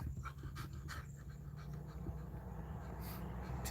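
A dog panting near a parked car, quick rhythmic breaths rasping close to the microphone over a low steady background rumble, with no talking.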